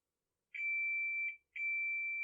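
A multimeter continuity tester on a repaired wire gives two clear, steady high-pitched electronic beeps, the first about three-quarters of a second long and the second held until the end, with silence between.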